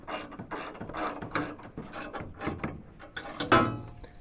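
Mounting hardware on a full-size integral panel in the short box of a 2019+ Ram 2500-3500 HD truck bed is tightened down with a ratcheting tool, giving a rapid series of clicking ratchet strokes, close and clear with no talking.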